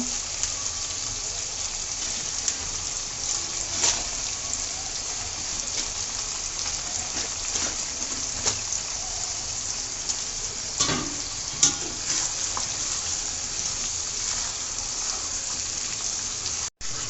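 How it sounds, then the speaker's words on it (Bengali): Beef sizzles steadily in hot spiced oil with cubed tomato, with occasional scrapes and clinks of stirring over a constant close frying hiss. "মশলা কিছুক্ষণ ভাজার পর যখন তেল উপরে উঠে আসবে মাংস দিয়ে দিব"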